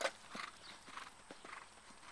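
Horse hooves clip-clop in a steady rhythmic gait during a riding lesson over jumps, moderately close and fairly quiet, with a soft whinny-like tone early on and no talk over it.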